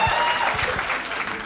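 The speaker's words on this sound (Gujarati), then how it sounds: "જ્ઞાનેશ માટે તાળીઓ થઈ જાય" A short burst of enthusiastic clapping from a comedy show audience welcoming a beatboxer guest, full and close throughout.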